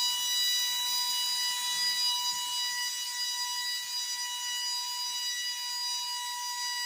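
A K'nex roller coaster's electronic horn sounds a steady, piercing, buzzer-like tone that holds unbroken for several seconds, with a faint mechanical rumble beneath.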